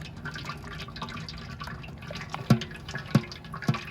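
Rosehip pulp pressed by fingers through a strainer gives soft wet squelches and drips over a quiet kitchen background, with three sharper squishing pops near the end.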